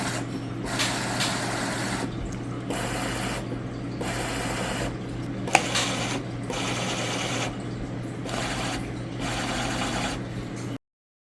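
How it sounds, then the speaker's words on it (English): Several Jebao Doser 3.4 dosing pumps run together during a first power-up test, producing a steady mechanical whirring that pulses on and off in regular bursts, with a brief click partway through and no talking. "let's go ahead and plug this in and test all the pumps if they're all working"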